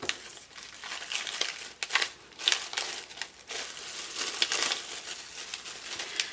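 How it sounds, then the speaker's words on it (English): A Halloween treat bag with candy inside is folded in half, giving close, quiet crinkling and crumpling plastic rustles in irregular bursts without speech. "I'm just folding this bag in half"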